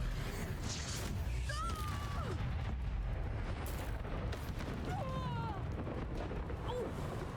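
Spell blasts in the Hogwarts Legacy game, an exploding curse and a disarming charm fired in a duel: a continuous low rumbling roar with repeated bursts and whooshing swoops, fairly quiet, under faint spoken voices.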